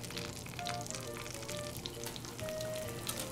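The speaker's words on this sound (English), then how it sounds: "now it's bubbly, so I add a little bit of the batter to each" Red velvet aebleskiver batter with white chocolate chips sizzles steadily in a hot aebleskiver pan, a continuous close crackling fry with faint bubbling pops throughout.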